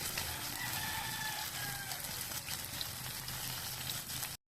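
Pompano fish frying in oil until crisp, a faint, steady sizzling hiss running the whole time while a rooster crows loudly nearby over it, before the sound cuts off abruptly.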